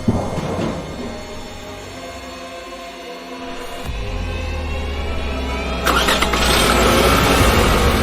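A stolen car starts and drives away: a pause, then the engine turns over at about four seconds and settles into a close running rumble, rising louder as it revs and pulls off near the end.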